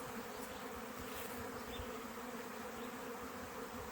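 A honey bee swarm hums in a dense, continuous buzz during a capture, steady and even in level throughout, heard alone without voices.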